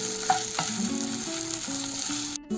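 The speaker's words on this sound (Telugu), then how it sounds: "ఒక 1 మినిట్ ఫ్రై చేసుకోవాలి." Onions sizzling in a hot pan for chilli chicken, a steady close frying hiss with faint stirring clinks and no voices.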